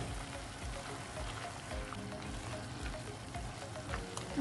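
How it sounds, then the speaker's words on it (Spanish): Cream poured into a hot pan of rajas and squash, a continuous soft bubbling sizzle with light crackle and stirring, moderately close and steady throughout. "Y aquí ya le vamos a agregar la crema."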